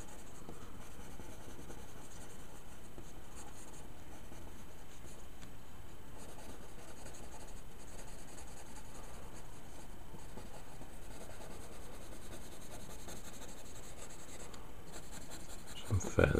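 A pencil shades a drawing of a winged skull on paper, making continuous close scratching and rubbing strokes throughout, with a faint steady background hum.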